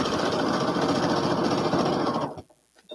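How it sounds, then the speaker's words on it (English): Sewing machine stitching straight quilting lines on a landscape quilt, a loud, fast, even mechanical whir running continuously for about two seconds before stopping abruptly, followed by faint small clicks. "I did just some few straight sewing lines under here to add some shadow"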